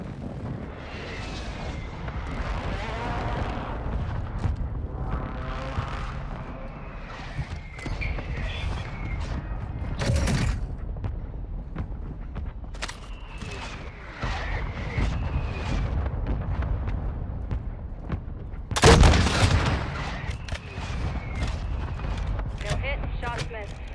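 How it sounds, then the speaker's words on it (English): Mortar strike explosions in Warzone, with a few heavy blasts, the loudest near ten and nineteen seconds, rising over ongoing game noise and radio-style voice callouts. "Mortar support incoming."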